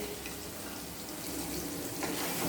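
Tomatoes sauté in a pan for a cauliflower paneer gravy, giving a soft, steady sizzle and hiss that stays quiet and continuous throughout.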